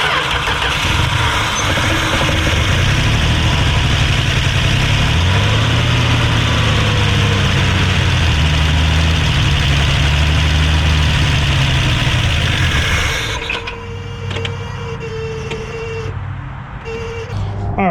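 A carbureted engine in a 1965 Ford Mustang restomod runs at a loud, steady, close idle with a low rumbling throb for about thirteen seconds, then cuts out, leaving quieter mechanical ticking and hum.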